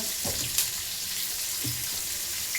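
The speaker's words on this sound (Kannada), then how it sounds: "ಇದು ಫ್ರೈ ಆಗಬೇಕಾದ್ರೆ ಸ್ವಲ್ಪ ಉಪ್ಪು ಹಾಕಿ, ಬೇಗ ಫ್ರೈ ಆಗುತ್ತೆ ಆನಿಯನ್ಸ್" Onions and green chillies fry in a pan with a steady, close sizzle, with a few soft stirring clinks over the constant hiss.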